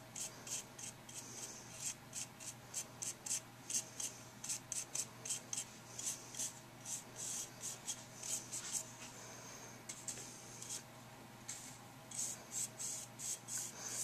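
A paintbrush dry-brushing a plaster model, making soft, rhythmic scratchy strokes in a long, quiet series with brief pauses.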